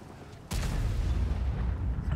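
A tank cannon fires in the World of Tanks video game, a sudden loud booming blast that breaks in after a short quiet lead-in and rolls into a sustained low rumble for the rest of the moment.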